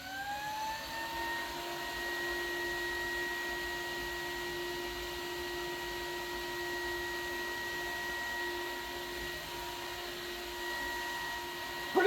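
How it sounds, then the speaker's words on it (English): An ATV radiator cooling fan spins up and runs steadily, giving a constant close whine with a clear tonal hum that holds throughout and is heard alone. "Pretty nice fan, though."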